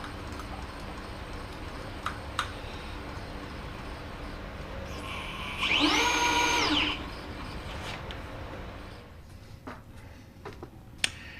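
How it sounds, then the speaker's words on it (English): Boring operation on a part for a small two-cylinder engine, a quiet workshop hum with scattered clicks and a loud, whining machining burst lasting about a second in the middle before fading to softer hum. "I'll have some shots of the boring operation."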